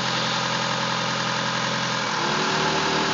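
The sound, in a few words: DSM car engine idling with possible rod knock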